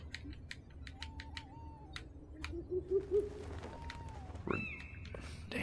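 Owl hoots from the Harry Potter and the Order of the Phoenix PC game, soft wavering calls rising a few times over low background ambience, with a sharper sweeping cry near the end.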